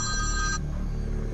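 Telephone ringing at the start of a workday at a high-end aircraft repossession business, a steady electronic ring that cuts off partway through over a constant low background hum.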